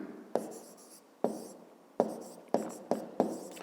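Pen strokes on paper while working a grade-five maths exercise, six sharp scratchy onsets in an uneven rhythm, each fading out over a fraction of a second, close up and quiet, with no talking.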